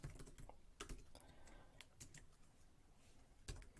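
Keys clatter on a computer keyboard as code is typed, a quiet, irregular patter of close clicks in short bursts with brief pauses, with no voices.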